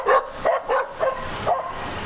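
Several dogs bark in the streets of a Mexican town near Chichén Itzá, five or six short sharp yaps in an uneven run, fairly close and clear, with no talk over them.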